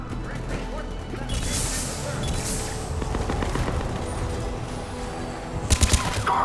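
Enemy gunfire in the Mass Effect 3 video game, dense bursts of rapid shots and impacts forming a loud, continuous firefight with a heavy crash near the end.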